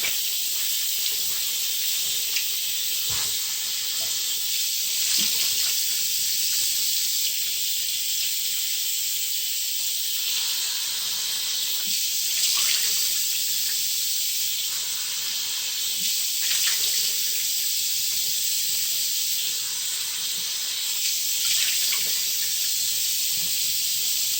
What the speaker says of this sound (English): now I'm going to go ahead and rinse this off with warm water